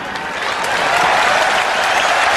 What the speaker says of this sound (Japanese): 一睡の余地もない埼玉スーパーアリーナ、大声援が起こります